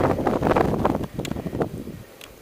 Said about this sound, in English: that's a hell of a gust coming off this cliff